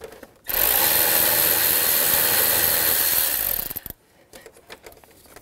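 A power ratchet with an 8mm socket spins out a bolt on the radiator cooling fan assembly of a 2011-2019 Ford Explorer, one loud, close, steady whir lasting about three seconds, then faint handling clicks.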